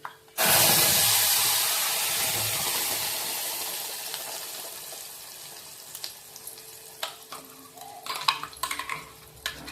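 Ground masala paste drops into a hot frying pan for masala puri gravy with coriander powder and garam masala, setting off a sudden loud sizzle that slowly fades, then scattered scraping and clinks of stirring.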